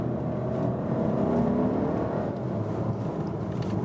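An Audi Q3 engine with a dual-clutch gearbox pulls steadily in second gear, a continuous low drone from inside the car that holds at an even loudness throughout, with no talking.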